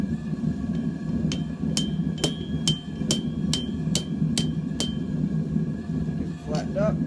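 A hammer strikes hot metal at a forge, about nine evenly spaced ringing blows flattening the piece, close and sharp over a low steady roar of background noise.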